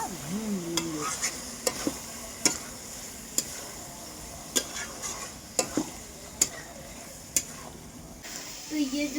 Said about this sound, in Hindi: अब इसको मैं चला के थोड़ा सा भून लूँगी।